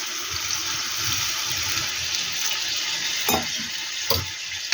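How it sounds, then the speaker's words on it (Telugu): Chicken liver curry sizzles and bubbles steadily in a pan as water is poured in, with a few sharp clatters of utensils near the end. "next water పోస్తున్నా friends"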